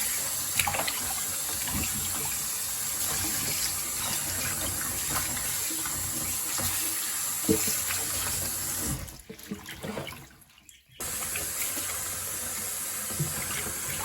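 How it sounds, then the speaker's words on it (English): Plain tap water runs steadily as callaloo leaves are rinsed under a faucet, a close, continuous splashing gush that briefly drops out before resuming. "So I'm just rinsing the callaloo here, giving it a first rinse."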